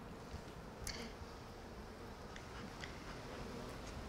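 Honeybees at an open hive during a summer inspection, a steady dense buzzing drone from many insects close by, with a few individual bees flying past near the mic.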